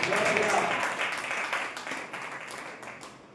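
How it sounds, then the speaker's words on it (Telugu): A church congregation claps loudly together, a dense wash of many hands that is strongest at first and slowly fades, with a voice speaking over it. "కొట్ట చప్పట్లు గట్టిగా."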